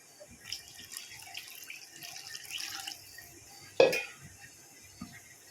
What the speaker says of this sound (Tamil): கூடவே நம்ம குழம்புக்கு தேவையான தண்ணியும் சேர்த்துக்கணும்